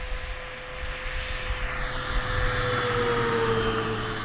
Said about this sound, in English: And I'll give you a full throttle flyby here.